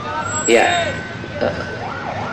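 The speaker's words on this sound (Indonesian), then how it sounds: "kasih jalan ambulan dulu, kasih jalan ambulan biar lewat dulu" An ambulance siren wails and warbles as the vehicle pushes through a crowd at a street demonstration in Jakarta, rising and falling over the background noise while a voice speaks briefly.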